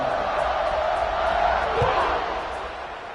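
Stadium crowd at an American football game, waiting for the kickoff after an extra point. A steady, loud roar with rising cheers is heard, and faint talk is audible beneath it.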